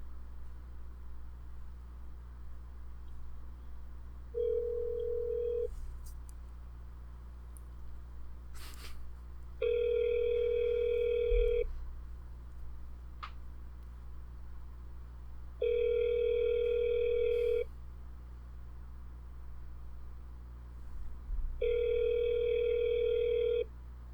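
Outgoing phone call to a McDonald's restaurant, ringback tone sounding in three steady evenly spaced bursts over a low constant hum, with a faint click between rings.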